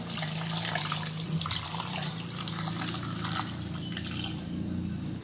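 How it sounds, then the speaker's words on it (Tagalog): Steady running water pours continuously for several seconds into a cooking pot filled with sweet potatoes, a full broadband rush, close by with no talking. "Lagyan ko lang ng tubig."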